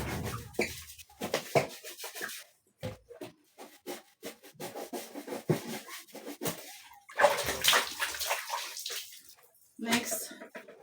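Skin being scrubbed during a bath: repeated close rubbing and swishing strokes in irregular bursts, with wet splashes, and a person talking at times.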